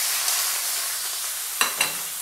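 Chopped onions for a Telugu onion chutney frying in hot oil, a steady soft sizzle throughout with two brief sharper crackles near the end, no voices.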